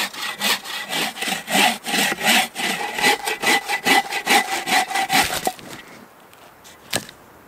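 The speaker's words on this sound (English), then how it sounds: "Still got plenty to saw up from yesterday." Hand saw cutting firewood at a frozen winter camp in deep cold, a steady rhythmic series of close, rasping back-and-forth strokes for about five seconds, then stopping with a single faint knock afterward.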